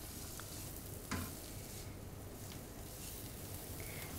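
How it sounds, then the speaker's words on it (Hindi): Chopped onion fries in a few spoons of oil on a large tawa with a constant crackling sizzle, marked by one brief clink of a spatula, all quiet and with no talking. "एक बड़े साइज़ के तवे पर आपने 3 to 4 टेबलस्पून ऑयल डालना है और उसमें आपने एक बड़ी प्याज चॉप करके डाल देनी है"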